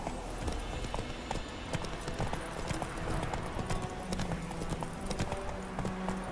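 Galloping horse hooves from the horse Roach in the video game The Witcher 3, a steady rapid clip-clop rhythm running throughout at a moderate level with some game background noise.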